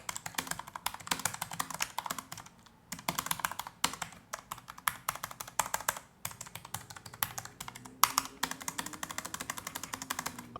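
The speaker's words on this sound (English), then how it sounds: "Here's the Corsair K100 Air using Cherry MX switches. I believe they are reds, or red low profile." Quiet, steady typing on a Corsair K100 Air low-profile mechanical keyboard with Cherry MX red low-profile switches, soft rapid key clicks in bursts with brief pauses between.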